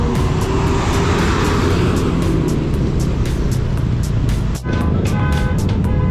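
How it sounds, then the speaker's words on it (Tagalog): Heavy road traffic rumbles on the C6 road in Taguig, a constant loud engine drone from nearby vehicles with a brief passing whoosh near the end. "Grabe traffic guys, pabalik oh."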